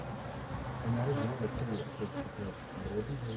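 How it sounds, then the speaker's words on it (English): A dense swarm of Africanized honeybees buzzes continuously and loudly at a hive, a steady droning hum with individual bees flying close past. "They're Africanized honeybees."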